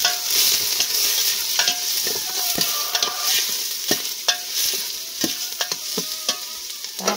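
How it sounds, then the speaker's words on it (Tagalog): Chayote sautéing in a pan with chicken liver and gizzard, stirred with a utensil: steady sizzling frying under repeated scraping and clacking strokes, close and fairly loud, with no talking. "Atin ulit mimikos-mikosin."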